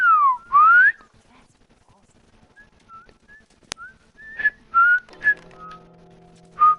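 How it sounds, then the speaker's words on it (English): A character whistles in The Last of Us, several short sliding whistled notes close up and alone, broken by pauses and a sharp click, with a faint mechanical hum in the background. "I'm whistling."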